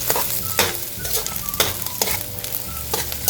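Carrot strips and ginger sautéed in a pan for pork sarisari: a close, steady sizzle broken by repeated scraping stirs at an uneven rhythm, with no voices.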